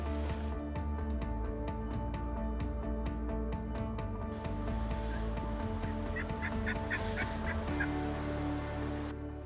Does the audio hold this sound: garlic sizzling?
no